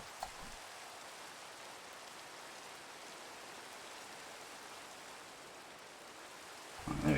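Steady rain falling in Minecraft, a constant even hiss of downpour that runs unbroken and alone throughout, with no voices over it.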